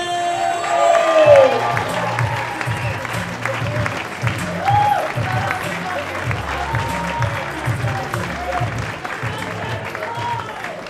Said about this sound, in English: start fucking clapping for Frenchy!